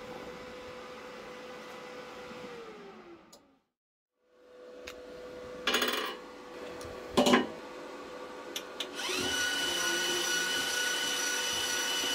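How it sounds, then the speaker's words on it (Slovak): A cooling fan on a PROCRAFT SPH-160 multifunction MMA/MIG/MAG welder hums steadily, spins down and stops, then starts again with a few sharp clicks and a louder whirring hiss that continues. "ventilátor má dobeh po vypnutí zhruba 5 sekúnd"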